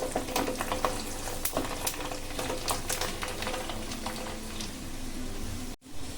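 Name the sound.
garlic frying in hot oil with mustard seeds and cumin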